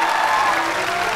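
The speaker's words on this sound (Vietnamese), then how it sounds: "một tràng pháo tay dành cho bạn Trần Nghĩa ạ." Applause for Trần Nghĩa on a Vietnamese classroom-style reality show, a steady wash of clapping from a studio audience filling the whole brief moment without pause.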